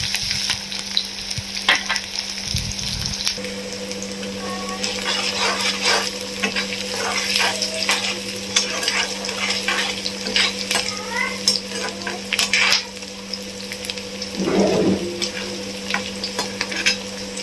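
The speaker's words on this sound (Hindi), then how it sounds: "तेल गरम हो चुका है। और अब मैं इसमें प्याज डालने जा रही हूँ।" Onions frying in hot oil and being stirred, a continuous loud sizzle with scraping spoon strokes and occasional clatter against the pan, no talking.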